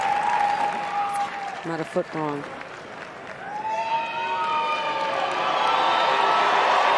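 An indoor dog show crowd breaks into swelling applause and cheering that builds to a loud, sustained roar, with a commentator talking briefly early on.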